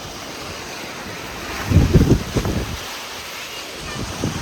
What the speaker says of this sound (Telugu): గాలి అయితే బాగా వస్తుంది.